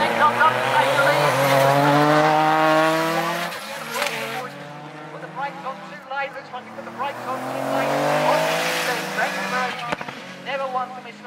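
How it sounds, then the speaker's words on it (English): Retro rallycross race cars at Lydden Hill race circuit roar past with strained engine notes and tire squeal, a loud sustained surge fading midway then building again, overlaid by a commentator's talk. "Rob Gibson who comes across then to take the checkered flag for the first of these retro rallycross cars"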